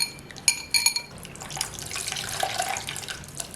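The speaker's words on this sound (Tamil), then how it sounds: "அதை வந்து தண்ணி ஊற்றி நல்லா பிசைஞ்சு போட்டுடலாம்." Water poured into cooked tamarind in a home kitchen for kneading, running as a steady trickle with a few clinking taps of a vessel near the start, close and fairly quiet.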